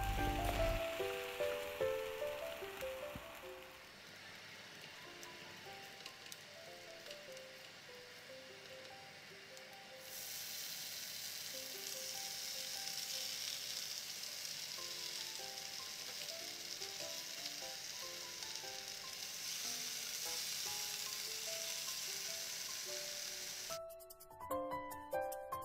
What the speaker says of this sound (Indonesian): Smoked beefnya dimasak dulu supaya rasanya lebih enak.